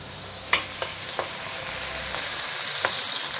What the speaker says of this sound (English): let's saute the shallot, because the shallot will take longer time than other ingredients